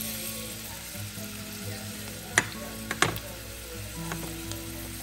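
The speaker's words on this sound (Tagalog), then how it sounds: "Lutuin natin ang garlic and onion" Garlic and onion frying in oil in a pan sizzle steadily at low volume, with a few sharp scraping clinks from stirring with a utensil.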